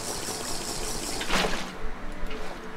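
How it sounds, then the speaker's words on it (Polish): Water in the Minecraft Aether mod, a continuous close flowing wash with a brief brighter splash-like surge near the middle. "Czy to jest może jakaś niebiańska woda?"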